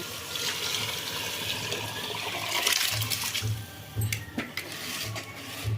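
Water pours steadily into a vessel of rice, two bowls of water to one of rice, a continuous splashing rush with a low hum pulsing underneath, and no one speaks.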